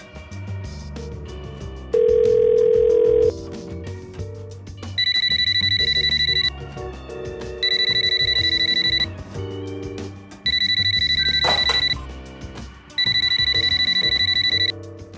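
A telephone dials and then rings. A long tone is followed by four evenly spaced ringback bursts, each lasting about a second and a half, heard clearly with no talking.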